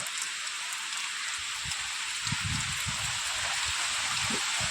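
Steady rain falls during a windy storm, a dense continuous hiss of drops on surfaces with some low gusty rumble, close and fairly even throughout, with no voices.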